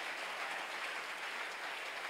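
A church congregation applauds and cheers the Holy Spirit during a worship service, with steady, dense clapping that holds at a fairly even level throughout.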